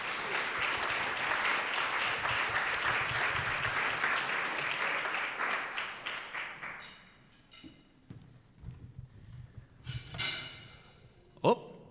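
A crowd at the Heroes at Home Awards in Hampton Roads claps for honoured military spouses and children. Loud, full applause holds for about seven seconds, then thins into a few scattered claps and thuds that die away.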